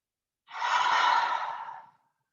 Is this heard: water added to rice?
no